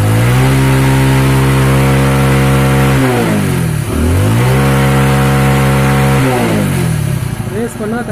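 An old-model Hero Honda motorcycle engine revs steadily, loud and close. The revs drop sharply twice, around the middle and near the end, then climb back and hold high.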